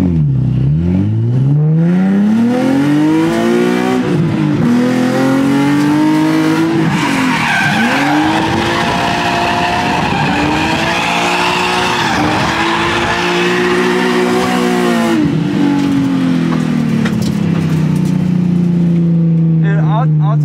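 Car drifting on a track, its engine revving hard in long rising and falling sweeps while tyres squeal and skid, loud and close throughout for about twenty seconds.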